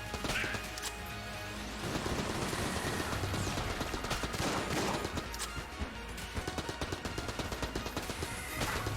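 Game gunfire from a charge-shot gun in Enter the Gungeon, with dense rapid bursts of shots and impacts in quick clusters alongside constant game sounds, steady and loud within the mix.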